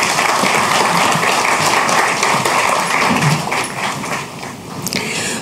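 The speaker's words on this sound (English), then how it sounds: "Round of applause, ladies, once again." Crowd at the 2024 Saint Lucia National Investiture Ceremony gives sustained applause after a Medal of Honour is awarded, a dense, even wash of clapping that softens slightly toward the end.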